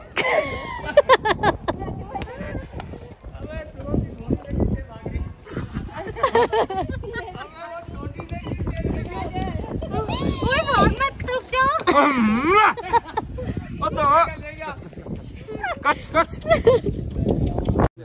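Horses walk along a mountain trail near Patnitop, their hooves clip-clopping in a steady uneven rhythm while people talk and chatter loudly over the sound nearly throughout.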